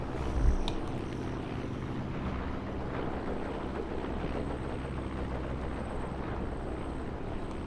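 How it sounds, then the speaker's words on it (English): Aircraft drone overhead in Graviteam Tactics: Mius-Front, a steady, low, broad rumble of engines that holds for several seconds. A brief thud sounds near the start, and no one speaks. "I definitely hear planes, but I don't see them."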